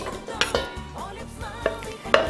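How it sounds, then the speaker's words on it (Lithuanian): Sliced apples tumble into a cooking pot, a few close clattering knocks and soft shuffling thuds of fruit against metal, with no voices. "Supjaustytus obuolius superiame į puodą."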